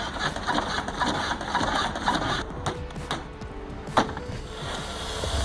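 A Fortnite video game golf cart engine hums steadily at a low idle, with a mechanical rattling whir and a brief clank near the end.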